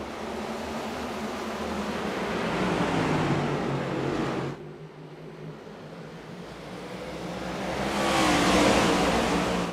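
Race cars in a racing video game accelerating together on a restart, a dense roar of engines that surges, briefly dips, then swells loudly again toward the end.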